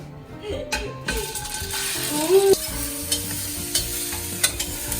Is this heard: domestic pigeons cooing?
no